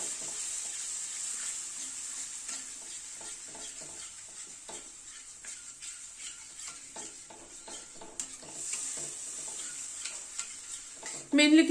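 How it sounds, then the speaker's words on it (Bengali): Whisked yogurt with fennel powder stirred in a pan over a very low gas flame, soft, quiet sizzling with a string of light spatula scrapes and taps, a louder knock near the end. "গ্যাসের ফ্লেমটাকে একদম কম করে নাড়তে থাকবো দইটাকে"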